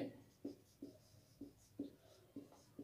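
Steady rhythmic strokes of writing on a board during a Bengali grammar lesson, about eight evenly spaced scratchy taps at close range with no talking.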